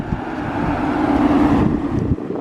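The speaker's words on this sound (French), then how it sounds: "il y a un peu de vent d'un coup" Steady wind buffeting a microphone outdoors beside an Aston Martin Vanquish Zagato Shooting Brake, a continuous low rumble with a rush that holds for about two seconds, then eases slightly.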